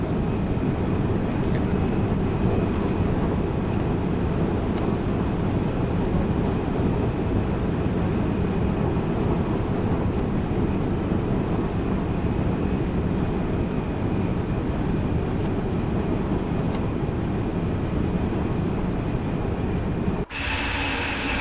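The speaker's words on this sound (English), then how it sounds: "That's a very quiet train." A quiet train rolls past on a railway line in a steady, even rumble that holds for about twenty seconds before a sudden sharp change near the end.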